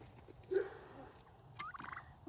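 Kentucky Bourbon Red turkeys on a homestead gobble twice, first a short burst and then a longer rattling call, fairly faint against quiet background noise.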